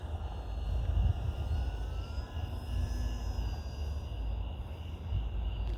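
A Flite Test Simple Stick RC airplane flies at night, its small electric motor a steady distant drone that swells and fades slightly as it passes, with no talking.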